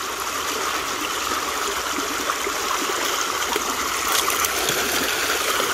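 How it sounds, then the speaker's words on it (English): Water rushes through an old-school gold sluice box in a constant, close, even gurgle and trickle, with no voices. "Just busting it through an old school sluice box."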